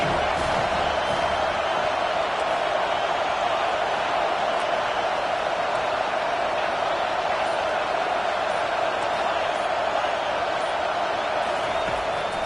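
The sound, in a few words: crowd cheering loudly at American football game on third down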